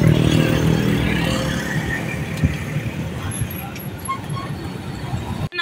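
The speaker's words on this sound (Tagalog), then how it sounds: "Super traffic." Heavy road traffic near a bridge fills the air with a dense, continuous roar of engines and a low rumble, steady and loud throughout, with one sharp knock partway through.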